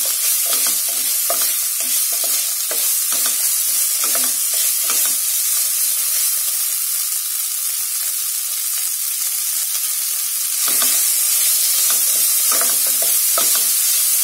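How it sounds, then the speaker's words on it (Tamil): Ginger garlic paste sizzles steadily in a kadai with a constant hiss, while a spoon scrapes and stirs in rhythmic bursts that pause midway and then resume. "இந்த இஞ்சி பூண்டு விழுது இந்த பச்சை வாசனை போகிற வரைக்கும் நம்ம வதக்கிக்கணும்."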